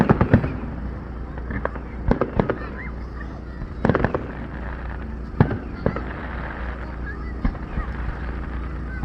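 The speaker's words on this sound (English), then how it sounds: "We got lots of fireworks." Fireworks going off outdoors during a celebration, a string of sharp explosive bangs and crackles at irregular intervals over a steady background rumble, with voices talking now and then.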